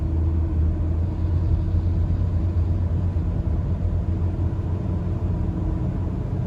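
A four-cylinder car engine hums steadily from inside the cabin while driving gently, a low continuous rumble with no talking.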